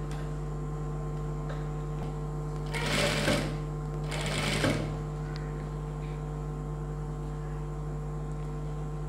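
Two short, close bursts of a sewing machine stitching thread piping onto a blouse stand out against a quiet, steady background hum.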